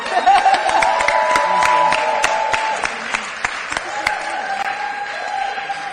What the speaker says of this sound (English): we need to do another round of applause